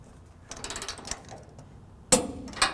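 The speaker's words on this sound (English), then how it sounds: "let's go ahead and torque it down" Torque wrench tightening trailer hitch bolts on a 1992 Chevrolet truck: a few bursts of quick mechanical ratcheting clicks, then two sharp louder metallic clacks near the end, close and fairly quiet.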